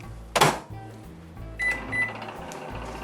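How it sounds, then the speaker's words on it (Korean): A microwave oven hums low and steadily while a short clatter sounds near the start and a couple of faint high beeps follow later. "전자레인지에다가 1분만 땡을 해주시면 됩니다"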